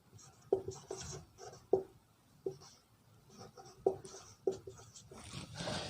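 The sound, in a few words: writing on a board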